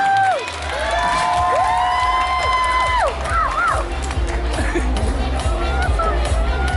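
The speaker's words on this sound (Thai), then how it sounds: "ปรบมือดังๆให้กับน้องๆโมเดลของเราด้วยค่ะ" At a denim fashion show in a shopping mall, the audience cheers loudly for the jeans models. A thick wall of crowd noise carries shouts and whoops, with voices rising above it, sustained and close throughout.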